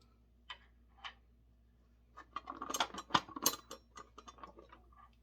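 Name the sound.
unscrewing a wing nut on a Dewalt table saw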